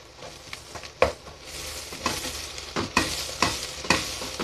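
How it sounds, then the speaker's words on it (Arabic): Canned tomato paste frying in a pot, stirred with a small ladle: a soft, steady sizzle with repeated scraping strokes and a few louder clacks. No one speaks. "مغرفه صغيره تاع طماطم مصبره، مغرفه صغيره ما تزيدوش عليها، نص مغرفه ولا مغرفه صغيره فقط، نقليوها"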